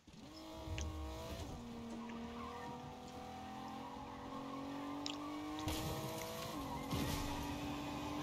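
A car in the Fortnite video game drives with a steady engine drone and rising pitch, its tires skidding and squealing through turns; loud and continuous, with no talking.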